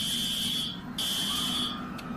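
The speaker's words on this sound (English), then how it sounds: "The lockdown alarm rang." A lockdown alarm blares in loud, shrill electronic tones, two long sustained pulses with a brief break between them and no talking.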